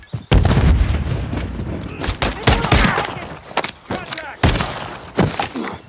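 A grenade blast and heavy gunfire in Call of Duty: a deep boom amid rapid bursts of close, loud shots and thuds, with shouted voices mixed into the combat.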